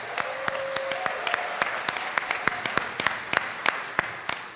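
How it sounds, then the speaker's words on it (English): Steady audience applause at a congressional debate, many hands clapping, sharp individual claps standing out above a dense wash, continuing throughout. "Let's give them a round of applause."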